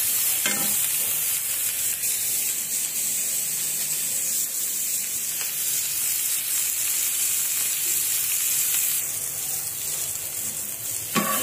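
Onions and chillies fry in a pan while being stirred, giving a steady, close sizzle that runs unbroken from start to end with no voices.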